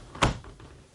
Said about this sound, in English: the door will still close for you